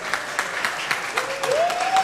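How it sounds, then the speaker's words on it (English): A boxing event crowd in Phoenix claps steadily, with scattered hand claps building to fuller applause. A tonal sweep rises over it near the end. "Everybody give him a round of applause."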